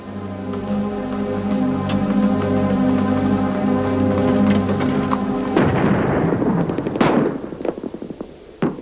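An artillery shell fired on the hills, heard as a sudden deep rumbling boom that cuts through a steady tonal background and fades slowly, followed by a further crack.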